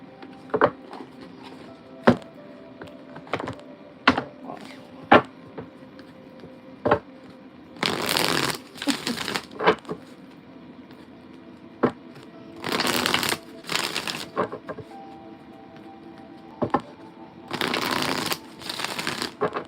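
Wisdom of the Oracle card deck being shuffled, with bursts of riffling at steady intervals between scattered taps and clicks of cards being handled up close.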